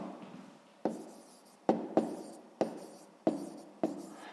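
A pen writes on paper during a sixth-grade maths exercise, sharp taps and scratchy strokes repeating about six times at close range, each fading before the next, no talking.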